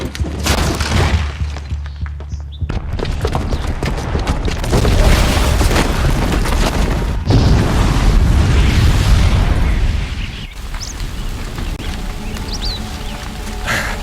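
Booby-trapped bomb detonating in Horizon Zero Dawn, a massive close explosion with shattering, crashing debris, followed by a long rumbling roar and further booms before settling into lower rumble, with faint voices briefly audible.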